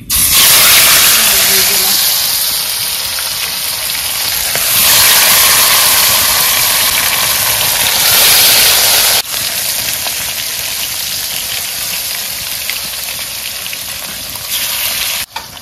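Cardamom drops into hot oil and sets off a loud, close, continuous sizzling hiss that surges and eases in waves.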